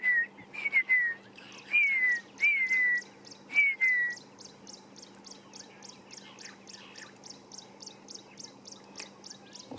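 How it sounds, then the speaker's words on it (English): Several descending whistled calls of red-faced mousebirds repeat in a loose series over steady background chirping and a low diesel pump hum, at sunrise on safari. "And the ones I want you to try and hear are the red-faced mouse birds."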